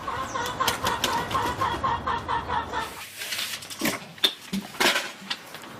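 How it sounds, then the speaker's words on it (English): Chickens and cockerels in a garden cluck in a steady run of short calls, then give sharper, scattered squawks nearby. "The cockerels are a pest."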